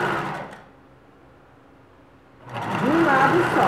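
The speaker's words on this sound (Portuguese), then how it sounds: "alinhando o pé calcador, o pé da máquina, ou a sapata, com a parte do meu debrum, para fazer uma costura retinha" A sewing machine stitches bias binding onto fabric in a straight seam, a close, steady motor whir in two bursts separated by a quiet pause, with someone speaking over the stitching.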